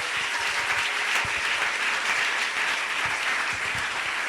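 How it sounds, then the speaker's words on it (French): A church congregation bursts into loud, steady applause, many hands clapping together in a dense, continuous wash of sound that holds evenly for several seconds. "Est-ce qu'on peut acclamer très fort pour le roi de Dieu?"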